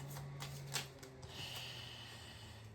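Angel oracle cards are shuffled and drawn, making quiet riffling flicks and soft taps close by, with a faint steady hum beneath.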